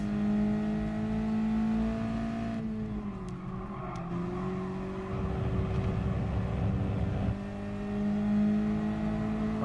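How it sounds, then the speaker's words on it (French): A race car in Gran Turismo Sport holds a steady engine drone that dips and shifts pitch as it gains speed, with a rougher, louder stretch midway before the tone settles back. "Allez, roule, roule. On prend de la vitesse."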